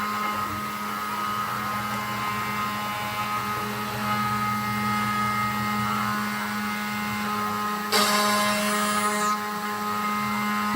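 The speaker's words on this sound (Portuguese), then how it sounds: "ela inicia o processo, ela recorta as peças, ela retorna para o ponto inicial e desliga a máquina" A CNC router cuts MDF kitchen cabinet parts with a steady mechanical whine and hum, then a brief bright high-pitched burst of cutting near the end, all at moderate level with no voices.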